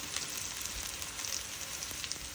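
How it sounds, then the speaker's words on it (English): Onion with bay leaves sizzles and crackles in hot oil, a steady, even frying hiss with small pops throughout. "Now you want to fry the onion and allow the onion to infuse in the oil a bit."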